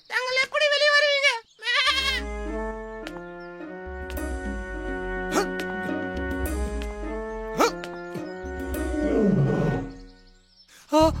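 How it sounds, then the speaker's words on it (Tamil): A cartoon lion roars in a Tamil animated moral story. The short, rough roar comes near the end, over background music and after an earlier goat bleat. "ஐயோ, சிங்கம் வேற சத்தம் கேக்குது, என்ன பண்றது?"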